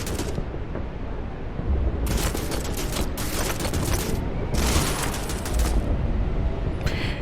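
Gunfire in a Strike Force 3 video game ambush comes as sustained loud bursts of rapid shots, broken by short pauses, over a dense, noisy background with no speech.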